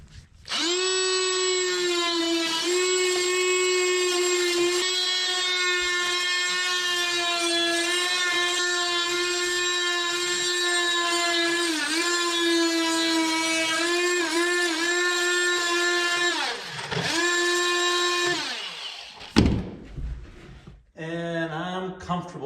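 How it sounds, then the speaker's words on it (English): An oscillating multi-tool cuts into a boat's frame during a boat build, giving a loud, close, continuous harmonic buzz that holds steady for about eighteen seconds with brief dips in pitch before it stops and some clatter follows. "I'm going to start using my oscillating tool to cut out to the back of the frame"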